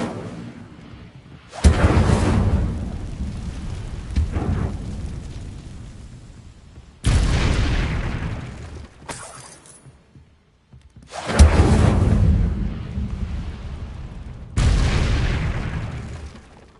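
The Incendio fire spell is cast in Hogwarts Legacy. Four loud, booming fiery blasts come several seconds apart, each striking hard and then fading into a rumbling whoosh.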